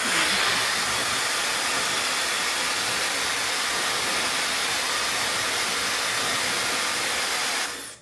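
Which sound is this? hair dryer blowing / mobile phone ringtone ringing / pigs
hair dryer blowing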